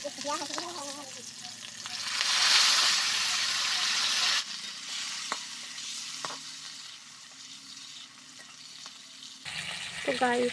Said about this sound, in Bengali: আমার নিরামিষ সোমবার যেহেতু সেই জন্য পটল ভাজা করছি